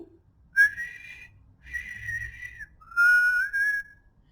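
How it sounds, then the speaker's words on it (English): A person whistles three sustained, slightly wavering notes with short pauses between them, close and clear in a quiet room. "I'm not a very good whistler, but I can try."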